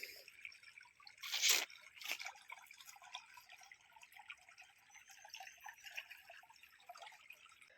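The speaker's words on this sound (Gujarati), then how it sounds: "હવે પાણી ચાલુ કરો દેવા પાછું" Irrigation water trickles and drips onto a field of young spinach on a farm, a faint, steady wet dribble with a couple of louder splashes early on, and no voices.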